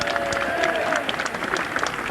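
A crowd at a 1988 NHS cuts demonstration in Birmingham cheers and applauds nurses, with a continuous burst of clapping and voices mixed with speech.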